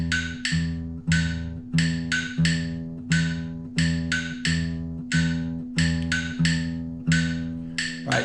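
Acoustic guitar played on the top string, three evenly spaced notes per bar repeating against a sharp metronome click, close and clear with no talking.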